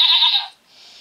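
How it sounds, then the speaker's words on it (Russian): A single goat bleat in a cartoon-style video game, loud and close, a bright wavering cry that fades after about half a second before a fainter trailing tail, heard on its own. "Коза."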